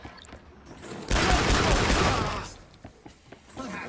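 Grenades explode in the Killing Floor video game, a sudden loud burst of crackling blasts about two seconds long that fades into scattered game sounds and low voice fragments.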